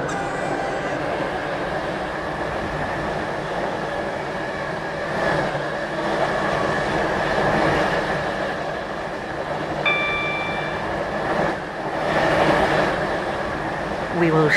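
A train in a video game, running a Stepford Connect service, rumbles steadily with a constant motor whine and track noise, with brief tonal chimes partway through.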